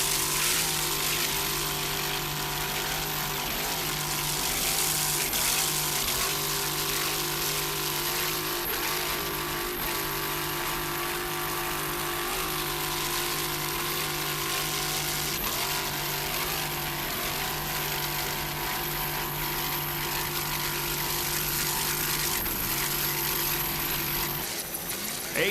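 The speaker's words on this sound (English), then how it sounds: "Just listen to that engine there" A 27-foot Donzi racing powerboat with a single 650-horsepower engine and Mercruiser drive at the Key West world race, its steady loud drone holding for the whole stretch with faint propeller-like buzz overhead.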